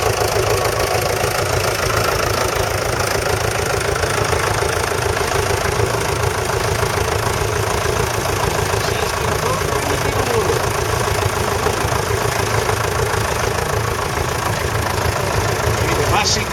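A Massey tractor engine runs steadily at an outdoor county agricultural show, a continuous low mechanical drone with idling knock throughout, mixed with crowd noise and background voices.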